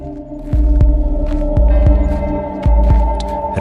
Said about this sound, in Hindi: कदमों की आवाज, खून टपकने की आवाज और राहुल की तेज धड़कन